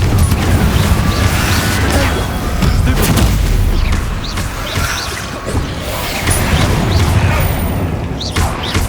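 Explosive Confringo spell blasts in Hogwarts Legacy go off as several loud, booming bursts spread over a few seconds, each crashing impact followed by a rumbling tail amid ongoing combat noise.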